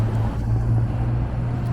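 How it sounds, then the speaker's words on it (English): A small MG sports car passes by on a city street, a steady low engine rumble blending with surrounding traffic noise throughout, fairly close and continuous. "There's a unique car passing by."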